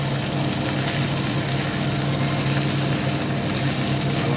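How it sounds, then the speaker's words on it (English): Onions, some of them burning, fry in a pan for a Spanish omelette. The sizzle is a loud, steady and dense hiss that runs without a break for the whole stretch. "Some of the onions are burning."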